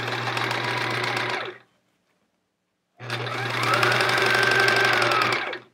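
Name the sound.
sewing machine sewing quilt pieces together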